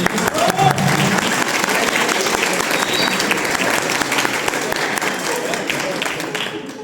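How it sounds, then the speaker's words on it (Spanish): An audience at a philosophy café panel breaks into warm applause for the speakers, dense clapping that holds steady and then begins to thin toward the end. "un aplauso para los compañeros Andrés, Gerardo y Leslie, por favor"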